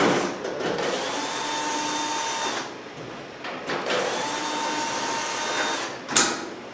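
A power drill fitted with a quarter-inch nut driver bit on a Whirlpool electric dryer whirs in two steady long runs, close and loud, with a brief gap between them and a short sharp knock near the end.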